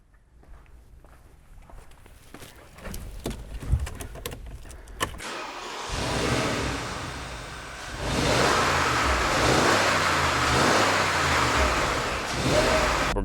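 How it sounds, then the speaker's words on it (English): A 2014 Porsche Cayenne Turbo S engine revs in several loud, rising surges from inside the car, after a stretch of quieter rustling and clicks. "rev it up a little bit so you can hear it and hear that big engine"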